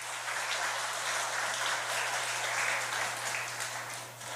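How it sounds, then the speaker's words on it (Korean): A church congregation claps together in a dense, steady patter of many hands that holds evenly for several seconds, with no voices rising above it. "우리 박수 한번 하겠습니다"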